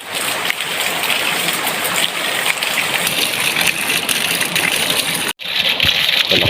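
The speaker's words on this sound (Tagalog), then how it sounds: "atin ang ina-activate yung ating patubig" Water gushes steadily from an off-grid, motorless water system, a loud continuous broadband rush close by with a brief break near the end before the flow resumes.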